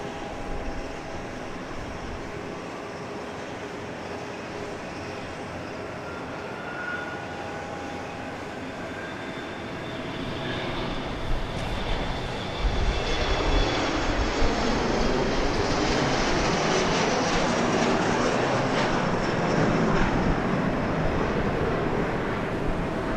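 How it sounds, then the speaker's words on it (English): A JSX jet, Flight 284 bound for Houston, moves at Dallas Love Field with a steady engine roar that swells louder over the second half, broadband and continuous, with no voices. "that was Flight 284 JSX going to Houston, Texas"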